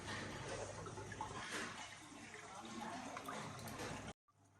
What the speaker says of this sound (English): we've now turned the protein skimmer on, and what the protein skimmer is doing is bubbling up